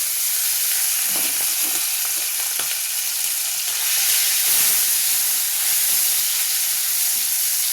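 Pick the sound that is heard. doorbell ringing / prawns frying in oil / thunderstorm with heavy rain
prawns frying in oil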